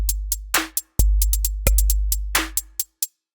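A trap-style beat programmed on a DM2 drum machine app on an iPad: booming sub-bass kicks with long decays, sharp snaps and clipped hi-hat ticks in a sparse, syncopated pattern, loud and dry without voices.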